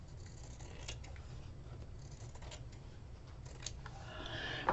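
Scissors trim fabric with faint, scattered snips over a low steady hum, the quiet cuts irregular and a few slightly sharper near the end.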